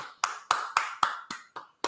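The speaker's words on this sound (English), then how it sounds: "I'm clapping for the job." Seven sharp hand claps in an even, brisk rhythm, close and crisp with no voices over them.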